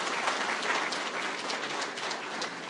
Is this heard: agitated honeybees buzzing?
no